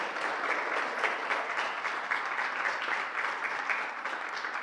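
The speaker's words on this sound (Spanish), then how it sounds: "Vamos a darles un aplauso a nuestros hermanos de España" A church audience gives a round of applause to visiting brethren from Spain, an even, continuous patter of many hands, moderately distant and without clear voices.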